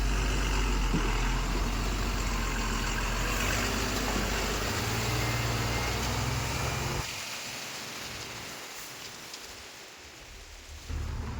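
A heavily loaded lorry's engine drones loud and steady as it climbs a slope, with a deep rumble that drops away partway through, leaving a quieter road noise.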